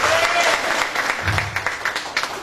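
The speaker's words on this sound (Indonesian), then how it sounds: "Tepuk tangan dulu buat kita semuanya." A seminar audience claps in a dense burst of applause that thins into scattered claps, with crowd murmur underneath.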